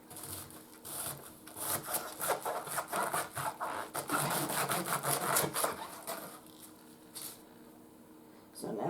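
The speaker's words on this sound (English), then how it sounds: "So now I'm just slicing." Knife slicing through sausage on a board, a quick series of rhythmic cutting strokes at close range, fairly quiet, followed by a short pause.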